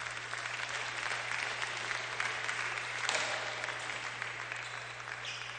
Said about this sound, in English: Oh, this audience, extra little round of applause there.